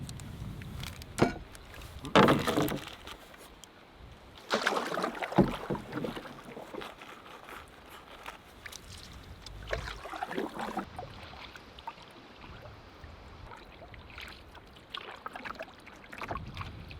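Canoe paddled across a remote Canadian lake, with soft irregular paddle splashes and drips over faint wind noise, a few louder strokes standing out, and no voices.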